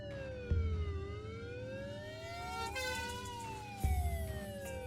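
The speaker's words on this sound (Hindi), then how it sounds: "थोड़ी देर बाद वहां अग्निशामक दल और पुलिस की गाड़ी आई।" Police and fire vehicle sirens wail, rising and falling together, several overlapping tones sweeping continuously, with dull thumps partway through.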